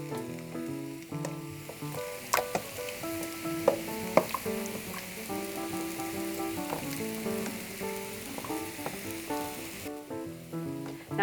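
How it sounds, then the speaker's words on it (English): Onions and garlic frying in a gumbo pot, a steady close sizzle with occasional stirring clicks and scrapes, alone with no voices, under a low hum of music in the kitchen. "There's nothing better than onions cooking."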